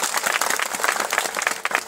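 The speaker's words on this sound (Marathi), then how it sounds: "डामोर साहेब या भी टाळ्या वाजवून स्वागत किया" A crowd at a Bharat Adivasi Party campaign rally claps to welcome guests, a brisk burst of many hands with distinct overlapping slaps and no talk over it.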